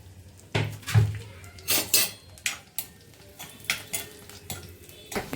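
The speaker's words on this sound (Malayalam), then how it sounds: "തേങ്ങയും കറിവേപ്പിലയും കൂടെ അത് വറുത്തിങ്ങ് എടുക്കാനാണ്." Grated coconut and curry leaves roasting in a pan for chicken curry, heard as repeated clinks and scrapes of a utensil stirring against the pan, sharp and close, with a faint low sizzle underneath.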